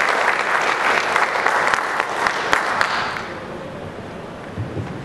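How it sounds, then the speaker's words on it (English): Conference audience applauding speakers, steady clapping from a crowd that fades out after about three seconds into quiet room tone. "Round of applause for these guys."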